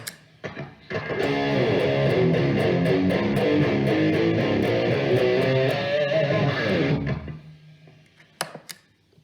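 An electric guitar through a Rock Stuff RS808 Tube Screamer clone overdrive pedal plays a crunchy, driven riff for several seconds, then rings out and fades, with a few faint clicks at the end.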